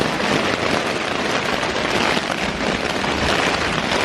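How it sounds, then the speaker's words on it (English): Steady rain patters on a cheap hot tent, a dense, even hiss with no breaks that is loud and close all around. "Rain's here."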